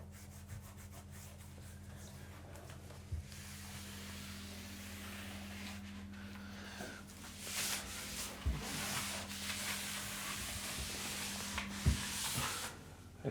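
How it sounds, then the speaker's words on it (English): Rubbing and wiping across a surface on a building site with a Hippo wipe, a soft continuous scrubbing close by that grows a little stronger toward the end, with a steady low hum underneath. "So we'll just have a little bit of wipe down."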